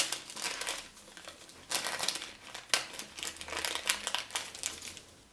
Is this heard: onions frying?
no